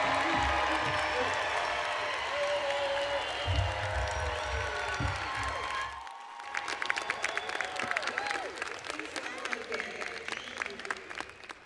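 A convocation crowd applauds social work graduates at a ceremony, dense clapping at first, then thinning to scattered, closer individual claps.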